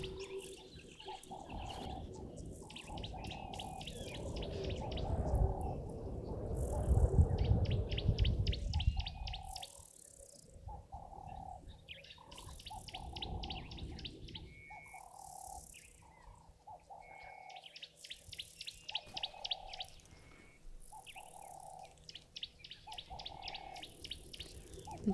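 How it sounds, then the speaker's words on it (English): Green-backed camaroptera calling in a wild bush setting, with repeated rapid trilling bursts high in pitch recurring through the clip, alongside insect and other bird chirps; a low rumbling noise swells near the start then fades. "we can hear the greenback Cameroptera in the background"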